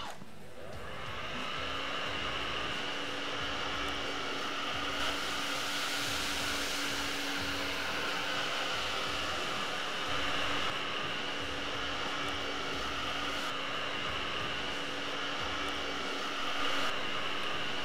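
Miele Triflex HX1 cordless vacuum running on low suction over thick pile carpet, a steady close whining drone with a sustained tone and small shifts as the head moves.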